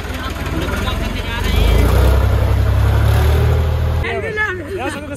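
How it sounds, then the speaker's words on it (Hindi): A stationary tractor's engine idles nearby at a village brick kiln, a steady low rumble that swells slightly midway, with people talking over it throughout. "ये ट्रैक्टर खड़ा है, ट्रैक्टर में जाएंगे"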